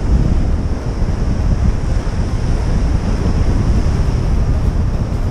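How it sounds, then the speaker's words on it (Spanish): Steady, loud wind buffets the microphone on Playa Camahuiroa beach during surf fishing, a constant roar blended with breaking surf, with no voices. "Tenemos el viento en contra"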